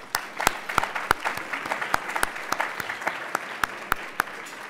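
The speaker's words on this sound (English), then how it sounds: "Round of applause for them." Applause from a summit audience after partners are thanked, a dense wash of clapping with a few sharp individual claps standing out, steady and moderately loud throughout.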